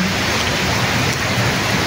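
Steady, heavy rain pours down outdoors on the way to a spearfishing spot, a dense, loud, unbroken hiss of falling water.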